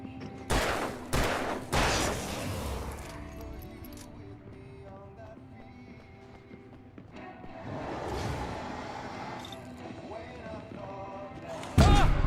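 Gunfire in Alan Wake Remastered: a quick burst of loud, sharp shots at the start, then quieter rumbling action, with another cluster of bangs later and a heavy hit at the end.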